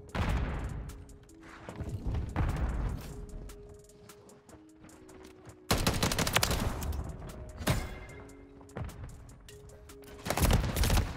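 Gunfire in Call of Duty: Modern Warfare 3 multiplayer comes in several loud, dense bursts of rapid shots with sharp cracks and booming impacts, separated by quieter stretches of game ambience.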